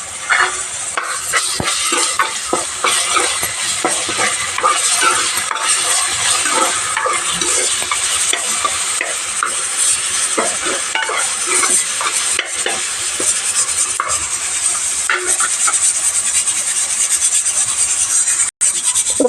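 Onions and ginger-garlic paste fry in a pan for mutton curry, a steady close hiss and sizzle with continuous scraping and rasping of a spoon stirring against the metal throughout.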